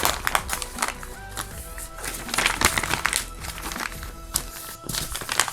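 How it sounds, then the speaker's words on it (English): A sheet of paper is lightly crumpled by hand to age it, giving a run of close crinkling and crackling bursts with short pauses between. "just lightly crumple it like that and then flatten it back out"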